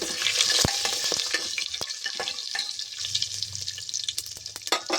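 Whole spices, bay leaf, peppercorns, cinnamon, cardamom and cloves, sizzling in hot oil as a spoon stirs and scrapes the pan, with bright crackling and a few sharp clinks.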